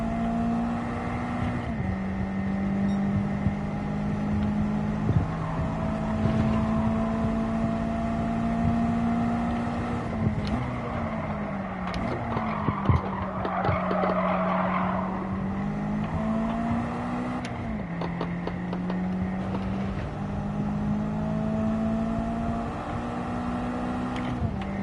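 Porsche engine in Gran Turismo 7 droning steadily, with pitch rising and dropping through gear changes and an over-rev. The sound is continuous and fairly loud, with no talk over it.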